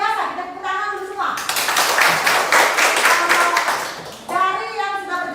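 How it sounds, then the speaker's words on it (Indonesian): Students in a classroom burst into about three seconds of brisk, lively hand clapping during a school teaching session, framed by a voice speaking just before and after. "kita tepuk tangan dulu semua"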